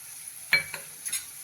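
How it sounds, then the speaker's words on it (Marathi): Chopped radish pods being stirred and sautéed with crushed niger seed in a pan, giving a few brief scraping and sizzling strokes of a spoon, close and quiet, with no voices. "छान हलवून घेऊ, एक मिक्स करून घेऊ."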